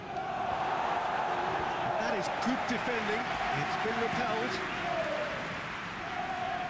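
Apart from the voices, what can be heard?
crowd cheering and applauding in PES 2021 football video game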